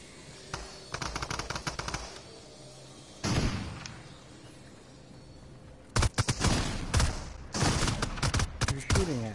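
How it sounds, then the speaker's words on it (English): Fortnite gunfire in several separate volleys of rapid automatic shots with heavy thuds between them, some distant and some close and loud, and brief speech now and then. "Someone shooting from out there"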